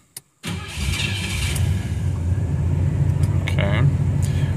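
A 1979 Buick Regal V8 coupe cranks with a short starter burst, then catches and settles into a steady, loud rumbling idle that continues to the end, with occasional brief higher rattles over the engine.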